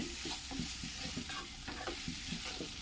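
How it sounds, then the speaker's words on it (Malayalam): Spice powders, coriander and Kashmiri chili, sizzle in an oiled pan while a spoon stirs them for beef curry, giving a steady fry hiss broken by repeated scraping strokes, close but fairly quiet. "ഇത് ഇത്രയും ചേർത്തോട്ട് നമുക്ക് വഴറ്റിയെടുക്കാം"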